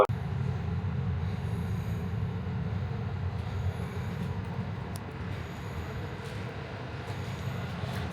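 A train pulling out of Gdańsk Wrzeszcz station, heard from inside: a steady, even rumble of wheels and carriage noise throughout, with a few faint high squeals and clicks.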